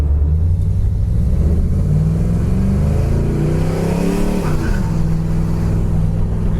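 A 1972 Chevelle SS with front drum brakes drives steadily, its loud, close engine rumbling and climbing in pitch, then dropping and rising again as it shifts into second gear.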